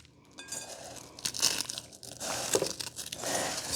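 Ginger snap cookies are crushed into crumbs, giving soft, irregular crunching and crinkling bursts at close range, fairly quiet, with no talking.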